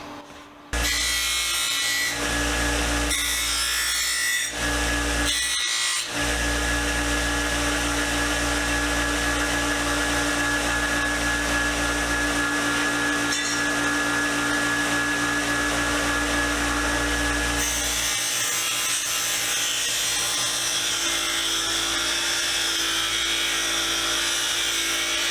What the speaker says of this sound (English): I'm going to see if the wire wheel can't take a lot of it off